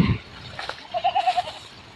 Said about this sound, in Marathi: आणि त्याच्याच बाजूला पहा मी शेळ्या चारत आहे.